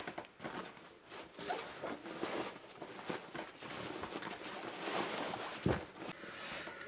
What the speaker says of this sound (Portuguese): Agora nós vamos pelo zíper aqui, ó, abrir.